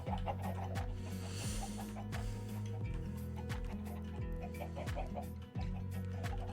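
Chickens cluck softly and steadily in a factory-building video game, layered over a low mechanical hum with a regular thumping rhythm, with no talking.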